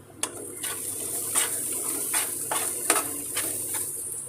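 Masala for a hotel-style mushroom curry frying in oil in a pan, a steady close sizzle with intermittent scraping stir strokes, no talking.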